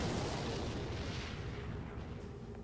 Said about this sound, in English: And a rocket comes out.